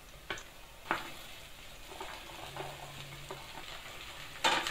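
Okra added to softened onions in a hot pan gives a moderate frying sizzle with intermittent scrapes and knocks of a spoon, a louder clatter at the start and another burst at the end.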